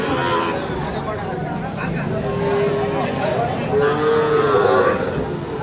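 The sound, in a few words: cows mooing at a cattle market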